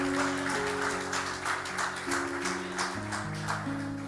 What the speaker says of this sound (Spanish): Si va a aplaudir, aplauda ahí para el Señor.